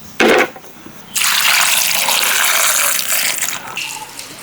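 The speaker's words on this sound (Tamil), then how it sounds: "பருப்பெல்லாம் முங்குற அளவுக்கு கொஞ்சம் தண்ணி ஊற்றிக்கிறோம்." Water poured over lentils in a pot for Sri Lankan dal curry: a brief splash, then a loud, steady pour lasting a few seconds before tapering off, close and alone.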